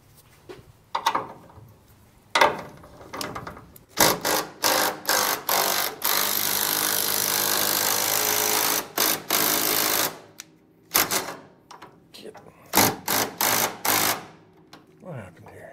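An impact wrench works on the transmission and motor mounts of a '57 Bel Air restomod, rattling in short repeated bursts and one long sustained run, loud and close, with brief pauses between hits.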